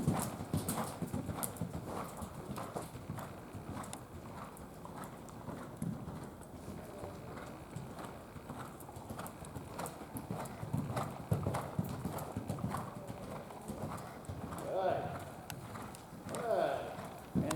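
A horse cantering in an arena, its hooves landing in a soft, rhythmic three-beat clip-clop at moderate distance, with a trainer's voice talking over the hoofbeats throughout.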